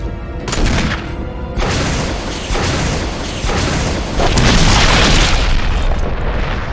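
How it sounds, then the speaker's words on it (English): Rocket launcher fire against a monster in the survival horror game Resident Evil HD Remaster: loud, dense booms and blasts rolling continuously, heavy low-end explosions layered over one another for several seconds. "we're gonna use this rocket launcher to kill the monster."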